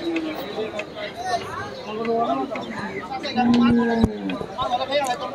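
Cattle lowing at a busy village cattle market, several moos near and far including one long loud call, heard over steady crowd chatter and people talking.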